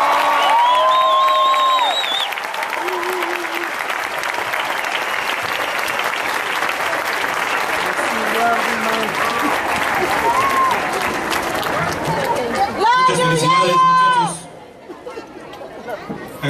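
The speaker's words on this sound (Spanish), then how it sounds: "Un fuerte aplauso para todos ustedes." An audience applauds graduates at a graduation ceremony, sustained dense clapping with crowd chatter and cheering mixed in, loud and close throughout before dropping off sharply near the end.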